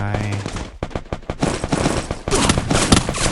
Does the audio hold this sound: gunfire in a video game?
yes